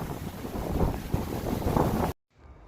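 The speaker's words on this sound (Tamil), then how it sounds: "அன்னைக்கு பாத்தீங்கன்னா பயங்கர காத்து, இந்த சத்தமே உங்களுக்கு கேட்கும் பாருங்க" Strong wind blows outdoors and buffets the microphone with a loud, rough, rumbling rush for about two seconds, then drops off suddenly into near quiet.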